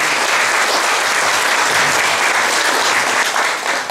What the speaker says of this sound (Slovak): Takže veľký potlesk pre vás